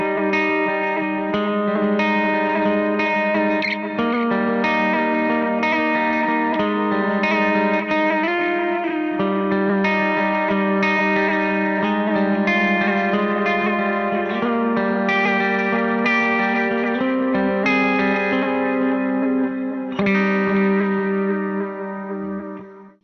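A sustained electric guitar passage through a Meris LVX modulation pedal with a wavering, modulated shimmer and a soft reverb tail, playing steadily with no voices.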